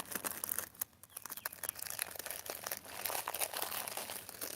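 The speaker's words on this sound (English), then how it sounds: "Let me stick that back in its little envelope here." Crinkling paper or plastic as an item is slid back into a small envelope, close and busy with scattered rustles and crunches, no talking.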